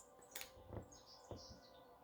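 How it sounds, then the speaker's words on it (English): Birds sing outdoors in a few faint, brief chirps and whistles, heard softly at a distance over a quiet background. "Listen to the birds."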